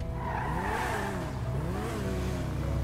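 A car engine in GTA 5 revs and drops with sweeping pitch changes, rising, dipping and climbing again over a steady rumble, fairly close and moderately loud with no talk.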